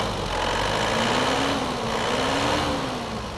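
An Isuzu Crosswind engine, freshly fitted with a radiator fan, revs with a steady, loud drone that holds, then eases slightly toward the end, with no talk over it.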